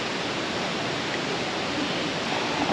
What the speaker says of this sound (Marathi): इथे मंदिराच्या बाजूलाच एक छोटीशी नदी आहे